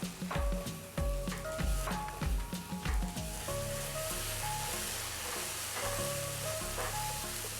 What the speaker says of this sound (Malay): Kita tumiskan dia sekejap sampai dia betul-betul naik bau.